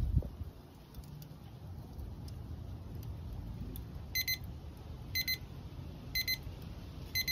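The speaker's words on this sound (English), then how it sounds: "the alarm's pretty decent. You'll hear it in just a second." A Tonytown meat thermometer alarm beeps in quick, clustered bursts roughly once a second, four bursts in all, clear over a low steady background hum with no talking.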